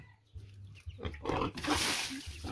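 A large pet pig grunts and snorts while being washed, with low intermittent grunts and a rising rush of splashing water partway through, fairly close.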